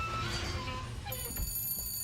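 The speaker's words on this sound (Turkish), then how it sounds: "Ya, telefon çalıyor yine mi?" Telephone ringing inside the video game Bioshock Infinite, a bright electronic ring tone over faint game ambience, moderately loud and alone without talk.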